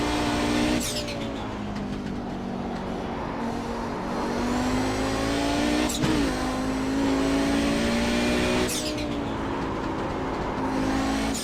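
Audi 90 GTO race car in iRacing, its engine droning and climbing in pitch as it accelerates, with three sharp gear shifts that briefly cut the tone before it rises again, loud and close.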